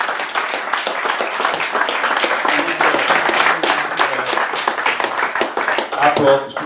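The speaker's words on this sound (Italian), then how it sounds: "Vi ringrazio degli applausi" An audience applauds after a political speech, a dense, steady wash of many hands clapping close by, continuous and even throughout, with a few shouts mixed in.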